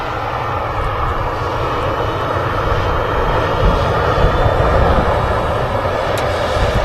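A Ryanair Boeing 737-800 at Manchester Airport produces a loud, sustained jet engine roar with a deep rumble that holds steady and swells slightly partway through, with no voices over it.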